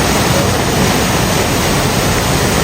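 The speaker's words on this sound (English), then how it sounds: "right behind me is the river Eisbach, which runs through the English Gardens" The Eisbach river rushes through Munich's English Garden as a loud, dense, unbroken roar of fast-flowing water, close by and steady for the whole stretch.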